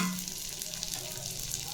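Broken wheat dalia and moong dal fry in a hot tempering, producing a soft, continuous crackling sizzle with light stirring, close up and fairly quiet, over a brief stretch with no voices.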